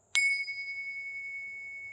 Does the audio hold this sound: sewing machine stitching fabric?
no